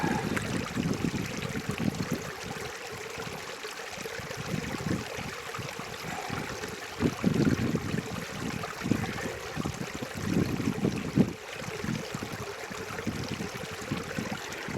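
Water swirled in a gold pan with small pebbles and rock, a soft continuous sloshing and trickling with irregular splashy surges.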